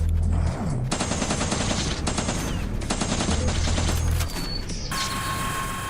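Guns fire continuously in the Last Line shooter tower-defense game, a loud, dense, rapid automatic stream with short breaks, growing thinner near the end, with no talking.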